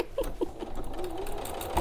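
A sewing machine stitches a tote bag in short bursts of rapid mechanical whirring, close by, with someone talking over it.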